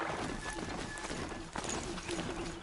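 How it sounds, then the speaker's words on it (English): Hooves of a horse-like machine clatter in a steady galloping clip-clop while it is ridden in Horizon Zero Dawn, running continuously under a dense bed of game noise. "So this horse-looking thing is now in my control. I can mount it, and we can ride out of here."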